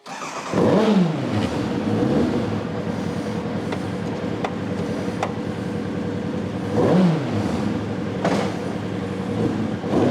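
1989 race car fitted with a motorbike engine revving hard, sharp rising and falling sweeps twice, near and loud, with a steady idle-like drone between the revs.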